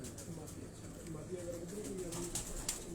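Teddy pigeons coo in a cage, repeated low throaty calls rolling on steadily and close, with someone talking over them.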